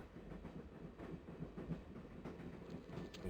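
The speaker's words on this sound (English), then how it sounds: "Now we're on a train getting there then." Train carriage rolling along in the Broken Sword: Shadow of the Templars video game, a steady low rumble with soft rhythmic rail clatter, continuous and moderately quiet with no voices.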